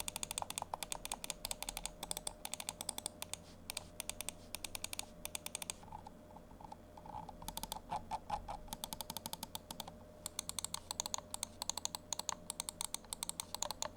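Endgame Gear XM2 8K v2 gaming mouse being clicked in a close-up sound test: rapid, sharp, quiet clicks in dense bursts, broken by a few short pauses.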